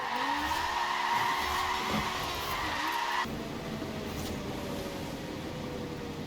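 Car skidding with tire squeal and engine roar in Forza Horizon 4, a sustained loud slide that drops abruptly partway into a steadier engine drone, with no clear crash impact.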